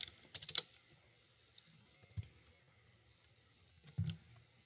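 Keys on a computer keyboard tapped to enter a MAC address for an access point, heard as a few scattered, quiet clicks with short pauses between them in a still room.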